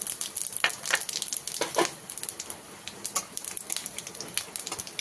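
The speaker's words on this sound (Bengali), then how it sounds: "ওই মাছ ভাজার তেলের মধ্যে শুকনো লঙ্কা আর 5 ফোড়ন দিয়ে দিলাম।" Dried red chillies and five-spice seeds sizzle in hot oil left from frying silver carp, giving a soft, steady crackle with scattered sharp pops at low volume.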